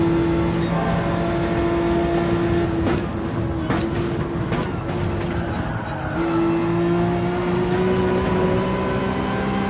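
A race car engine in Gran Turismo 7 drones loudly on the Dragon Trail circuit, with several quick gear shifts that briefly cut the tone before it climbs again, continuous and alone.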